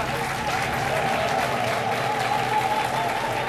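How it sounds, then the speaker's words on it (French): A studio audience at a midday talk show applauds steadily, dense close clapping at an even level throughout with no voices over it. "c'est réconfortant, hein, ces applaudissements, ces encouragements du public"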